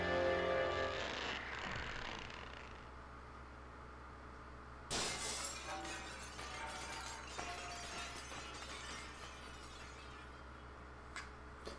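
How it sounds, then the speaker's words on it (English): A magical barrier in The Legend of Zelda: The Wind Waker breaks with a glassy shatter. The crash rings out and fades, and after a lull a second sharp burst of breaking, tinkling fragments follows. The whole scene is fairly faint. "To get the sound of the barrier breaking, they threw an intern out a plate glass window"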